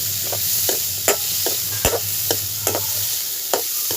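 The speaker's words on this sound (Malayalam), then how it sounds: "ചുവന്നുള്ളി വെളുത്തുള്ളി ഒന്ന് വാടി കിട്ടിയാൽ മതി കേട്ടോ തോനെയൊന്നും ബ്രൗൺ കളറൊന്നും ആവണ്ടേ അപ്പോൾ ഞാനിതൊന്ന് വറുത്തട്ടെ" Shallots and garlic fry in a pan for a bitter gourd curry, with a steady sizzle under regular spoon scrapes and taps about every half second, close and clear.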